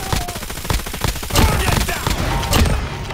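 Rapid gunfire in a first-person shooter video game, dense loud bursts of automatic shots with thumping impacts, fast rhythmic volleys filling the whole stretch.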